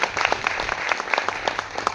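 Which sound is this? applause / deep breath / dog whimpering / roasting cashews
applause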